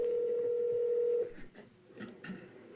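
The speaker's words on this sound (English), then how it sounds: "You will now hear an audio clip of that 911 call." Telephone tones open a recorded 911 emergency call: a steady, fairly loud tone holds for about a second, then gives way to quieter, muffled line noise and faint clicks.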